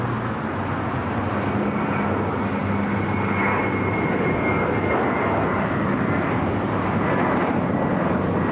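A British Airways Boeing 777 jet airliner is pushing back at LAX airport, heard as a steady, moderately distant engine roar and whine that holds evenly throughout.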